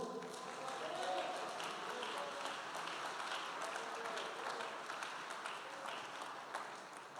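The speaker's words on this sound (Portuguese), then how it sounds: "Você pode aplaudir o Senhor?" Church congregation at a Portuguese-language sermon applauding, a broad, fairly quiet wash of clapping that continues steadily with faint murmuring voices mixed underneath.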